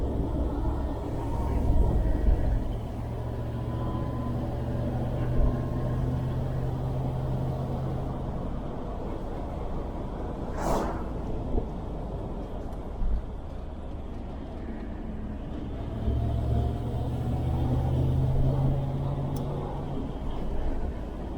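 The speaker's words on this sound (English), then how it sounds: "Noodles of torque here, running at about 1500 RPM in 4th gear." A 1971 Range Rover engine pulling at about 1500 RPM in fourth gear while driving, heard as a steady low droning rumble with road noise and a few faint knocks, no voices.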